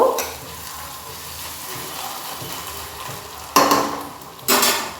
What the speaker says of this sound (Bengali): এবার এই আদা থেতোটাকে আমি তেলের মধ্যে দিয়ে দেবো দিয়ে একটু ভেজে নেব